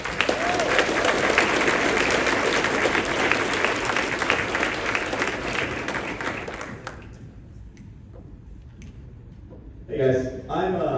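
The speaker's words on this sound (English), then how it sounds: "Can we give them one more big round of applause?" Sustained audience applause at an IEEE semiconductor summit at Texas A&M, dense and loud for about seven seconds before cutting off into a quieter room with faint murmurs and a brief burst of noise near the end.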